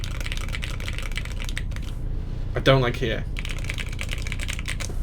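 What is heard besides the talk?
typing on custom mechanical keyboard with stabilized keys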